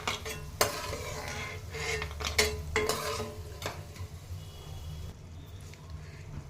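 Roasted peanuts are scraped out of a hot pan into a bowl with a metal spoon, giving several close clattering knocks and scrapes over a faint sizzle, then quieting.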